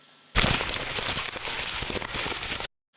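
Dense crackling paper noise from the Massive synthesizer, like crumpling paper, starts abruptly, continues steadily for a couple of seconds, then stops dead.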